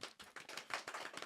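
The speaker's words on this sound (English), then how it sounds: "Round of applause" A few people clap at a close-miked podcast-style gathering, a brief series of distinct, fairly faint claps with an uneven rhythm.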